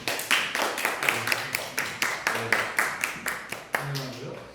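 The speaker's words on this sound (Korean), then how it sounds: "일단 박수 한번" A congregation claps during a youth church worship service, a steady run of sharp, close handclaps with a roomy echo throughout.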